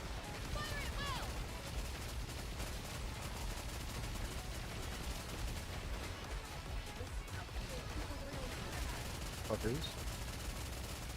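Rapid bursts of automatic gunfire and explosive crashes from a video game battle rattle on continuously, with a voice briefly speaking over the din.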